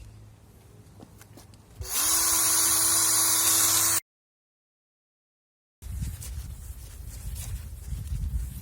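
An electric drill fitted with a sanding disc whirs loudly at a steady pitch for about two seconds while restoring faded car headlights, stops, then silence before quieter rustling and handling noises follow.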